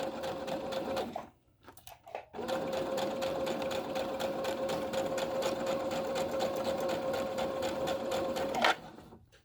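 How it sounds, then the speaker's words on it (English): A sewing machine stitches a surgical face mask, its motor whirring in a steady, fast, close hum after a short start-stop at the beginning, then halting at the end. "So I'm going to drop my needle and drop this, and then I'm going to stitch it."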